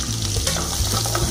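Shallots, curry leaves and garlic sauté in hot oil with popped mustard seeds, a close, dense sizzle with light stirring scrapes.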